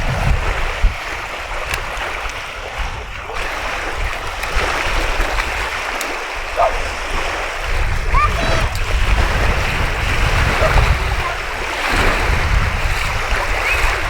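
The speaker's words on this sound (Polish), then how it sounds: "normalnie jest Bałtyk, słuchajcie, są tak fale olbrzymie, że masakra" Heavy surf of the Baltic Sea crashes and rolls continuously, a broad roaring wash of large waves that stays loud throughout, with wind noise mixed in.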